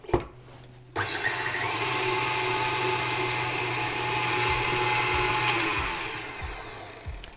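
An electric stand mixer creaming butter for a Jamaican ginger cake starts after a faint opening and whirs steadily and loudly at a constant pitch, then slows and winds down near the end.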